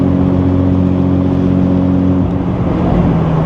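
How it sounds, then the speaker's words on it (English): A Porsche engine wails as it accelerates hard. The steady, loud engine note stays close throughout and shifts in pitch partway through, with no talking over it. "Oh, that Porsche wailing."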